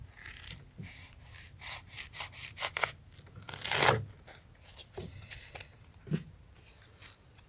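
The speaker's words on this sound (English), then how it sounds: "Let's go ahead and go through our pool noodle." Cold Steel Secret Edge knife blade sawing and tearing through a foam pool noodle, a run of short scraping, rasping strokes with one louder drawn-out rip in the middle, close and alone without talk.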